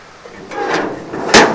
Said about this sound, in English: And then when you open the door, you flip it